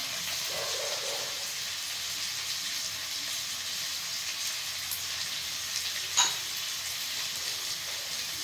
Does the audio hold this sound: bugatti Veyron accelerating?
no